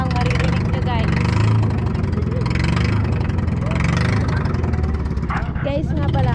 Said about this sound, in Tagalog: Mga rolog na ng bangka ang maririnig nyo, guys.